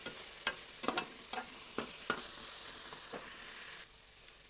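Green chillies and chili powder frying in hot oil for a Telugu broad bean and egg curry, giving a steady high sizzle with occasional stirring scrapes and clicks, close up and with no voices.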